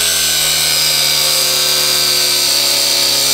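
Loud, continuous whine of a power tool running and cutting, steady and close with a harsh high-pitched buzz and no talking.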